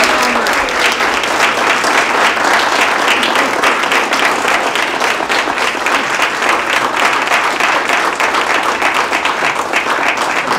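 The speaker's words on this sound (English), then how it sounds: "So let's have a round of applause one more time for Dr. Davis." An audience at a Q&A talk on reducing environmental toxins gives a loud, sustained round of applause, dense steady clapping lasting throughout with no talking over it.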